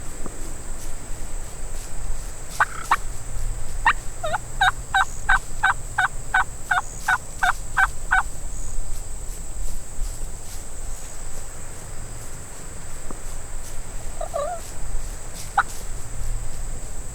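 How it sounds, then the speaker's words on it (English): A wild turkey gobbler in the Texas Hill Country gobbles from a distance, with a rapid rattling burst followed later by shorter, fainter gobbles over steady insect chirring outdoors. "Just maybe this gobbler will follow."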